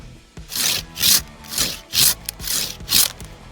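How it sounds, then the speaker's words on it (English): A handheld Forester Prune It pruning saw cuts through wood in five or six steady, rasping back-and-forth strokes, each a loud, close stroke with short pauses between. "now you're ready to cut with your handheld pruning saw"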